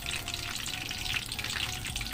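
Breaded chicken cordon bleu fries in oil over low heat, giving a steady, close crackling sizzle with dense popping that holds evenly throughout.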